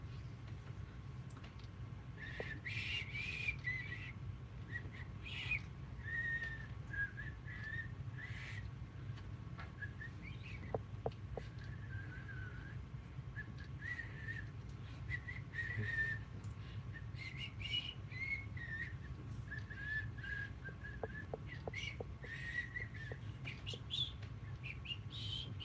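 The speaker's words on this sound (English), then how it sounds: "I sort of learned how to whistle, but I can't, like, close my lips correctly, so it's kind of a weird squeak instead." Breathy, wavering whistling from someone who can't close their lips properly comes out as thin, squeaky tones that drift up and down over about half a minute, soft against a steady low hum, with no talk.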